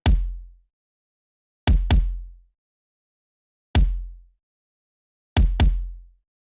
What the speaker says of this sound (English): The first sound we have here is this kick